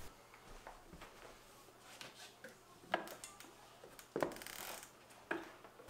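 An 11-speed cassette on a 10-speed Shimano hub, mounted on a Lemond Revolution trainer, clicks through gear shifts, giving sharp metallic clacks spaced about a second apart over a low drivetrain whir.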